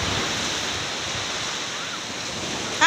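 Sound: ocean waves surging onto the beach in the morning

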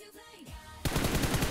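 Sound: gunfire in the video game BGMI

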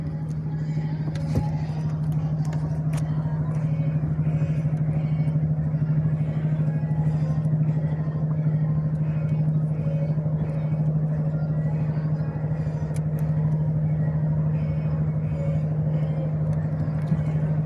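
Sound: motorboat engine approaching

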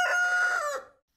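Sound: rooster crowing

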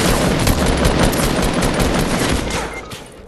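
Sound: gunfire from another player in Fortnite video game

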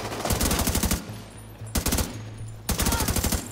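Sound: gunfire in video game The Division 2

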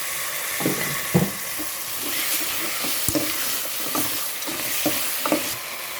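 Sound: curry paste being stir-fried in a pan

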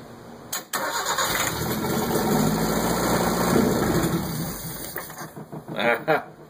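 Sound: Fiat 1200 with Toyota 3K engine cranking and starting

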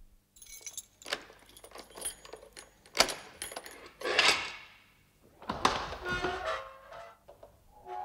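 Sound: keys jangling and door being opened, radio drama

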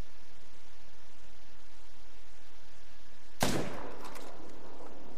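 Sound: rifle shot at red deer in video game theHunter: Call of the Wild

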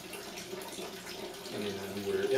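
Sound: distilled water rinsing before gold plating bath

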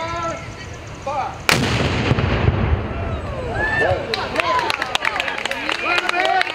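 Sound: Napoleonic-style cannon fired at a folk festival demonstration

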